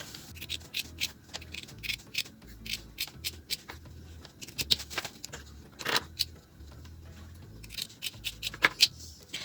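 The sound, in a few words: scissors trimming fabric seam allowance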